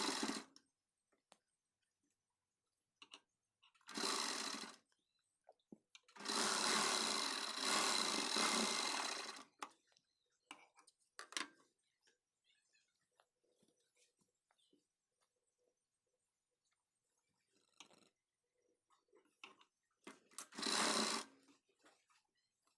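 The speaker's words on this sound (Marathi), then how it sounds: "आता इथे आपण टिप टाकून घेऊ एक एक सिंगल" A sewing machine stitches single stitches on a blouse in short separate bursts, one long run and several brief ones. Each whirring run stops cleanly, with quiet gaps and faint handling noises between.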